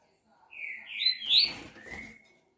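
A caged coleiro paulista songbird sings a short, clear whistled phrase of rising and sliding notes, close and moderately loud, against a quiet background.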